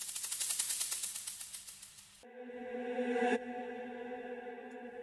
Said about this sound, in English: I also added a couple of transition sounds over here that sound like this.